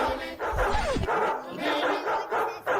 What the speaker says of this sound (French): il y a un chien enragé qui passe à côté